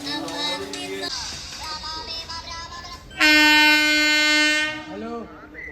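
A local commuter train pulls into a station platform, its long horn blaring loudly for about two seconds amid rolling rail noise, with people talking nearby.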